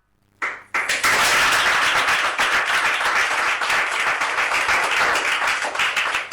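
An audience at a public address breaks into applause that starts abruptly, swells within a second and holds as dense, loud, sustained clapping.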